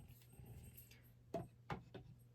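A pet dog gives three short, close whines or yelps in quick succession over a low steady hum indoors.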